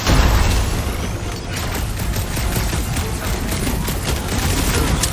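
Heavy guns fire in the action game Guardians of the Galaxy, a loud, sustained roar of rapid gunfire and booms rolling on without pause, with no voices.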